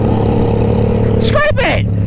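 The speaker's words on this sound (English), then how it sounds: "That Harley rev limiter" A Harley motorcycle engine revs hard and bounces against its rev limiter, a loud, close, continuous roar with a stuttering cut near the end; people talk and shout over it throughout.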